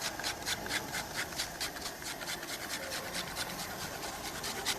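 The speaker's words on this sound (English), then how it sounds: "Some little bits of grated lemon zest." Lemon zest being grated over a plated veal dish with sauce, a steady run of rapid rasping scrapes, close and fairly loud, with no voices.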